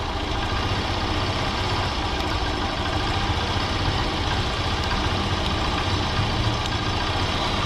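A 1980 Honda C70 Passport motorcycle, a small semi-automatic bike, idles steadily and close up for the whole stretch, a constant low engine rumble with no voices over it.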